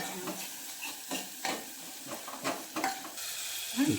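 Boiled, soaked lentils tipped into a hot pan sizzle with soft hissing and a few stirring scrapes, fairly faint and close, no voices.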